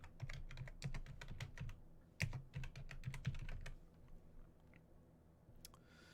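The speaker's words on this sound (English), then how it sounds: "let's just start typing these in and see what comes up" Rapid keystrokes clatter on a computer keyboard for a few seconds in bursts, then stop, leaving a quiet room with a faint stray click.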